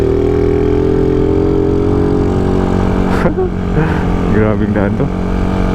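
Motorcycle with an enlarged carburetor labouring up a steep mountain road, a loud, steady engine drone with shifting pitch, close by, while a rider talks briefly over it.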